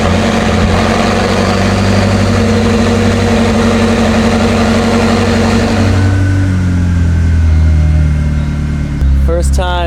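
A McLaren engine running after an engine replacement: a loud, close, steady idle with a deep rumble that shifts in pitch partway through, continuous throughout.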